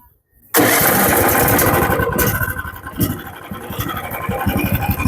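Austter P4206 petrol wood chipper engine cranking on the electric start, then catching and settling into a loud, rough, steady running rumble close by, after a moment of silence.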